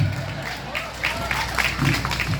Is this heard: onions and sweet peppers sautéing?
no